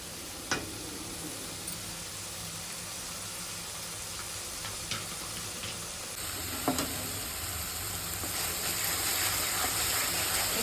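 A ground paste of tomato, onion and garlic fries in a pan with a constant close sizzle, a few soft clicks of stirring, and the frying growing louder and brighter near the end.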